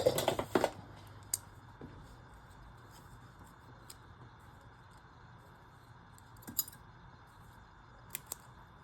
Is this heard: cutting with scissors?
yes